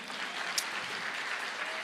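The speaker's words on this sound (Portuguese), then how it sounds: "Vamos aplaudir mais o Senhor" Church congregation applauding during a service, a brief, even wash of many hands clapping at moderate distance, steady and unbroken with no talking.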